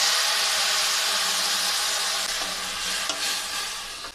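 Tamarind juice poured onto fried okra in a hot pan sets off a loud, steady hiss and sizzle up close, easing slightly toward the end, with faint stirring knocks.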